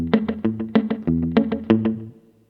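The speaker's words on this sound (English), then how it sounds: "you'll get an echo that sounds like this" Guitar played through a Strymon El Capistan tape echo set for Chet Atkins-style slapback, a run of crisp picked notes each trailed by a quick repeat, ending with a fading tail.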